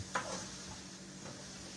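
Shrimp sizzling in a little oil in a pan, a soft steady crackle with a brief clink of utensils near the start, faint and continuous throughout.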